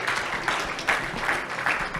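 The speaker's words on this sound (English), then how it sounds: "Round of applause" An audience at a book launch event claps with a dense, continuous patter of applause, moderately loud and fairly even throughout.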